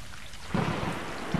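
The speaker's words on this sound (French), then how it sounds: "Bah, il pleut forcément." Rain falls steadily in the video game Stray while a low rumble of thunder swells partway through, the storm sounding close and fairly loud with no talking.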